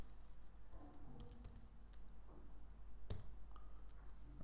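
Typing on a Mac computer keyboard while entering a terminal command, a quick uneven run of close, crisp key clicks with a sharper tap near the end, no voices.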